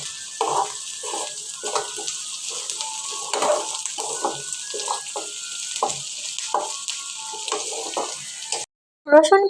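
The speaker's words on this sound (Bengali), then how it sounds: "রসুন পেঁয়াজগুলো শুটকির সাথে একটু নাড়াচাড়া করে ভেজে নেব" Onion and garlic fry in oil with dried fish, a steady broadband sizzle with stirring scrapes and clatters throughout, then a brief drop to silence before a final burst of clinking.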